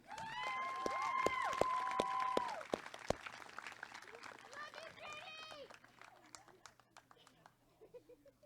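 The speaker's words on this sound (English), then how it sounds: "Another round of applause for JD." Applause from a crowd at a 2020 North Miami high school graduation ceremony, a steady wash of clapping under talk and a voice on the PA, thinning out toward the end.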